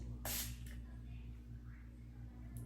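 A makeup setting spray gives a short, close burst of misting hiss, followed by a fainter second spray at the end, over quiet room hum.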